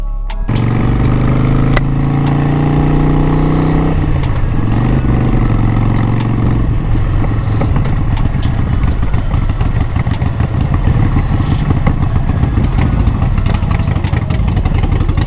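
A Harley-Davidson 1200 Classic motorcycle engine rumbles loudly and steadily while riding, the deep throb shifting in pitch early on as it pulls away, with no talking.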